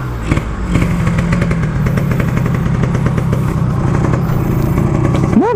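Yamaha RX King motorcycle fitted with a Kawasaki Ninja 150 engine, idling close up with a rapid, rattly two-stroke putter that holds steady before a brief rising rev at the end.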